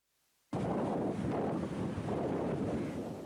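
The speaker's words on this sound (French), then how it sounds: "La tempête Fani ravage actuellement la côte est du pays avec une vitesse de" Strong Cyclone Fani winds lash India's east coast at about 200 km/h, bursting in suddenly after a near-silent start and then roaring and buffeting the microphone in a loud, continuous blast.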